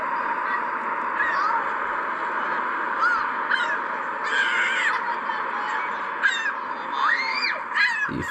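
Seagulls in Ottawa give repeated loud, harsh calls, several birds crying over one another in an outdoor flock, close and continuous throughout with no talk.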